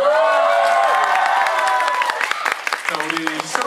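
A showcase audience cheers with loud high-pitched screams that give way to a burst of dense clapping, close and lively throughout.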